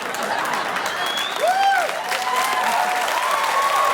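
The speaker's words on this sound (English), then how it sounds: "They're clapping." Comedy show audience clapping, a steady sustained burst of applause from a crowd, loud and continuous, with a faint whistle rising through it.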